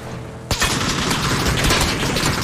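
Gunfire in a first-person shooter video game erupts abruptly after a quiet moment, a rapid burst of close, sharp shots followed by a sustained rattling volley with no talk over it.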